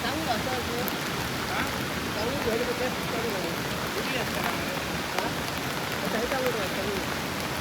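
Steady rain falls without a break near a fishing boat set on shore, a dense even hiss of drops on surfaces, with people talking faintly underneath.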